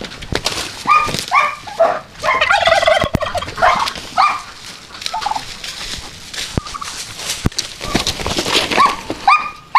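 Poultry birds fighting, with loud, close clucking and gobbling calls, scuffling, and sharp knocks that fit pecking beaks, continuing through the whole stretch.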